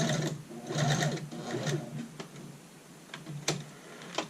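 A sewing machine stitches a skirt dart to its tip and then runs a short reverse, giving bursts of rapid mechanical chatter broken by brief pauses and single ticks, close and clear.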